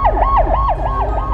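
An ambulance siren wails in a rapid, repeating up-and-down sweep, loud and close, over low rumbling background noise at the scene of a department store collapse in Seoul.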